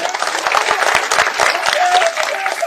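Applause from an audience at a political speech, a dense patter of many hands clapping steadily throughout, fairly loud and close.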